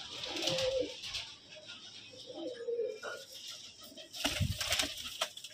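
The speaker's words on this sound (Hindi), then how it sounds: "सफ़ेद जर्ची कबूतरी" A white female pigeon coos softly in a few short, low calls, heard up close amid light rustling, with a brief louder flutter near the end.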